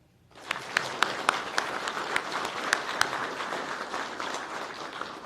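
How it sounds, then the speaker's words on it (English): Applause from the audience at a law enforcement academy graduation ceremony, held in a classroom: steady, dense clapping that starts suddenly and stays loud, with a few sharper claps standing out. "Please give them a round of applause as well."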